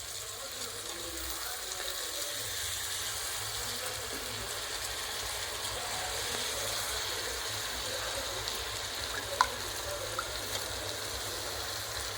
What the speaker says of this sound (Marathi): तांदूळ चांगले परतून घ्या